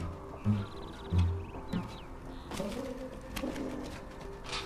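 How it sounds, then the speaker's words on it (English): Pigeons coo and flutter in the video game Night in the Woods, several soft low coos near the start, then brief chirpy calls and a faint tonal game sound, with no talk. "He's frolicking with the pigeons."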